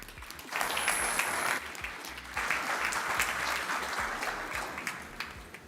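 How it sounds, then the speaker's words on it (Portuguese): A conference audience at a Zabbix tech event applauds, a dense burst of clapping that swells in two waves and holds steady in a hall, close and fairly loud with no talking. "Pedro Martins, uma salva de palmas."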